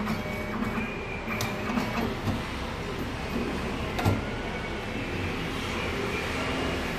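Bank passbook printer in Taiwan running steadily, with a continuous mechanical whir and faint clicking and a few sharper knocks as the head moves, heard up close with no talking.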